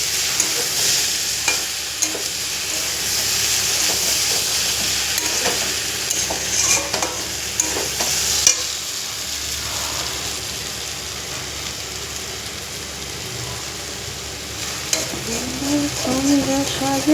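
Poppy seed paste and water being stirred in a pan for Bengali posto, a steady wet sizzle with scraping spoon strokes running throughout, close and moderately loud with no talking.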